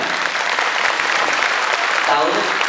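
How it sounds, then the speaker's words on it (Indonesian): An audience at an Islamic sermon in Miaoli City, Taiwan bursts into applause, loud, even clapping that holds at a steady level for the whole moment. "Tepuk tangan"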